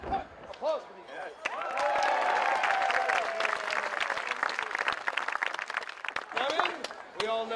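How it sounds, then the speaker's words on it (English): Audience applause and crowd noise at a comedic stage show, a sustained wash of clapping running most of the clip, with a voice talking over it at the start and end. "applause for these guys."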